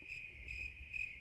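Crickets chirp as a sound effect, a steady high trilling drone that swells in pulses over a faint low rumble, with no voices.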